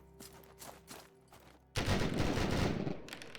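Handgunner units fire volleys in the Total War: Warhammer video game during a Wight Lord Dead Nations campaign battle: scattered soft pops, then a loud, dense burst of massed gunfire that rumbles on and fades slightly.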